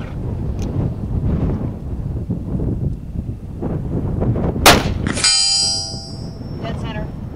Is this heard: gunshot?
yes